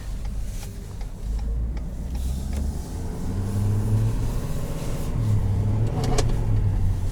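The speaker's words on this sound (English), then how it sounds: "Turbo noises." A 2020 Ford F-350 Lariat diesel pickup heard from inside the cab, a low steady engine drone building with faint rising turbo whine and rushing air, fairly quiet throughout.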